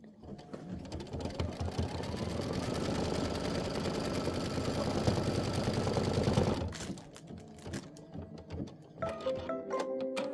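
An embroidery machine runs a placement stitch for a hat brim, a loud continuous rapid needle chatter for several seconds, then it stops and gives way to clicks and a short higher whir.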